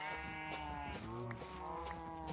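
Minecraft sheep bleat in a quick wavering cry, a single clear near call in a quiet game scene.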